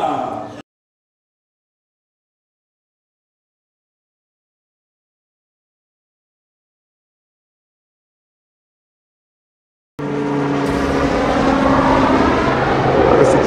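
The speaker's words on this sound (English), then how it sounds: "There you have a chance to see the plane dropping water." A firefighting airplane roars past while dropping water on a wildfire, a loud steady engine drone that cuts in after a long silence and carries on to the end.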